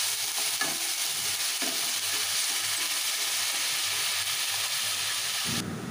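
Onion fries in oil in a pan, giving a dense, continuous sizzle that runs steadily throughout. A few soft stirring scrapes are heard, and the sizzle cuts off abruptly at the very end.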